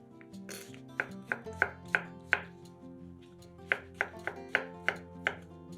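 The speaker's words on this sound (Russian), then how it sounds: "300 грамм шампиньонов моем, разрезаем пополам и нарезаем пластинками" A knife slices halved champignon mushrooms on a cutting board with crisp, evenly spaced taps, about eleven strokes in two short runs with a pause between, close and clear with no talk.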